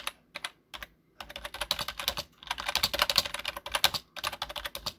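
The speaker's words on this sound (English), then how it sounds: "So here's a sound test of the keyboard." Typing on a Cooler Master Devastator 3 membrane keyboard: close, rapid bursts of soft key clacks in uneven runs separated by brief pauses, with no talking.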